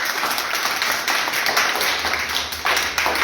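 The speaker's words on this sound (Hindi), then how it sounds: "बजाओ ताली।" Children clap their hands together in a room, a dense and steady patter of many small hands continuing for a few seconds without a break.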